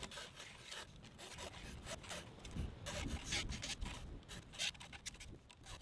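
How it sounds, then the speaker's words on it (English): Steady hand filing on a chainsaw chain tooth, a close, dry rasping in short repeated strokes, each pushed forward and lifted back, with no talking. "File, lift up just slightly and pull it back without taking the file out of the tooth."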